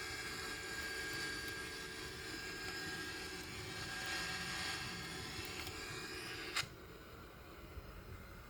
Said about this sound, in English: You can see we have reached the rotate right now, so we can take off.